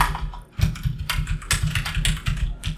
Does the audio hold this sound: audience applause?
no